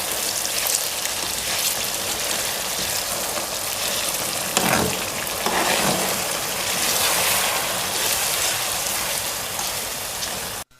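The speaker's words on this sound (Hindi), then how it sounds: "अब सेवियों को डाल लेंगे। इसे अच्छी तरह मिक्स कर लेंगे।" Vermicelli stirred and mixed in a sweet sugar-based pan preparation for zarda seviyan, a steady close sizzle and frying hiss with scraping stir strokes, a few louder stirring bursts midway, no voices.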